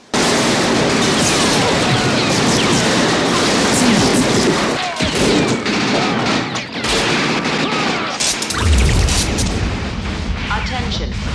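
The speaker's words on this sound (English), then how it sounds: "Holy explosion!" Gunfire and explosions from a scene in the 1988 film They Live, a dense continuous barrage of shots and booms with a deep low blast near the end, loud throughout, with voices mixed in.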